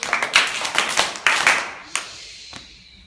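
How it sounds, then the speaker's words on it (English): A class claps for a student in a short, uneven round, a handful of close, sharp hand claps in loose rhythm that thin out to a few isolated claps and stop. "Can we give Ian a clap and the staff firework?"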